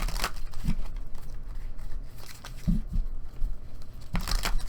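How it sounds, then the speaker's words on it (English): Tarot cards are shuffled by hand in a few short riffling bursts separated by pauses, close and crisp, with no talking. "I'm going to do 2 more shuffles. and then I'm going to pull some cards"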